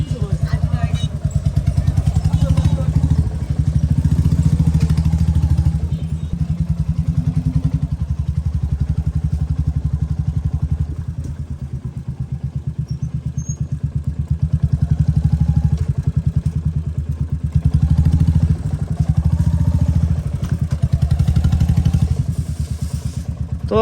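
A Royal Enfield Classic 350 motorcycle engine idles with a steady, loud thumping chug that rises and dips slightly, while people talk nearby over it.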